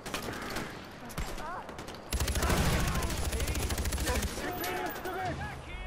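Rapid gunfire from many enemies in Far Cry 4, dense overlapping automatic bursts that swell into a sustained loud fusillade, with someone talking over the shooting.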